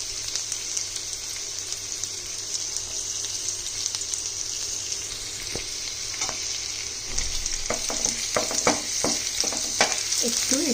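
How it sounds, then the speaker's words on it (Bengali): Chopped ginger sizzling in hot oil in a pan, a steady frying hiss with a burst of sharper crackles and spatters toward the end, close and fairly quiet. "তেলটা আমার গরম হয়ে গেছে। সব থেকে আগে আমি দেব এর মধ্যে এই কুচি করে রাখা আদার টুকরো কটা।"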